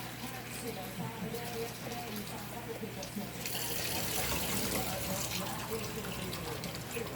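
Tap water runs steadily into a sink, growing louder and more gushing partway through, with faint rattling as lentils are rinsed under the stream.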